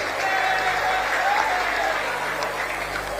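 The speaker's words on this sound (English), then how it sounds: "Can we give him a resounding applause, please?" An audience at a political declaration event applauds for a senator-elect, with dense, sustained clapping that fills the whole stretch at full loudness.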